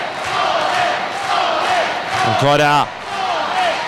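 Fans in an Italian light heavyweight title boxing arena shouting and cheering for Erittu, a continuous loud crowd roar with a chant rising through it, over a commentator's voice.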